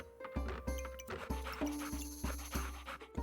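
A cartoonish puppy barks repeatedly in the video game Backpack Battles, with short yaps and panting sounds in a steady rhythm over a background game music loop.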